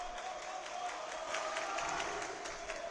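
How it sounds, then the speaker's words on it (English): A home crowd in a high-school gym at a Delphi volleyball match keeps up a steady, distant roar of cheering and scattered clapping, with faint voices mixed into the hum. "The Delphi home crowd trying to rally their team back into this"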